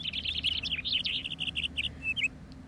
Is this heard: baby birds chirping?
yes